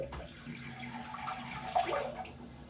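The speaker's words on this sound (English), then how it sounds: "We're just drain some of this bloody water away and get some fresh." Water draining and splashing in a sink during a wet shave with a Muhle R41 safety razor, faint close trickling and gurgling with a brief louder swirl near the end.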